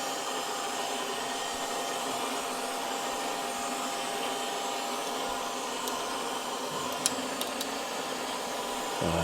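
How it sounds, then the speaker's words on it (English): A starter tapping drill from a heli-coil kit bores out an old broken bolt in an engine, giving a steady, fairly quiet whirring drone with a few faint metallic ticks near the end. "So this is a starter tapping drill for the heli-coil kit."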